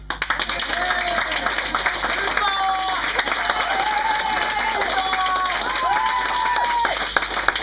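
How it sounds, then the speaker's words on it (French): A studio audience applauds at the start of a French comedy episode, with dense clapping sustained throughout while someone talks over it. "vous êtes prêts, mesdames et messieurs, applaudissements"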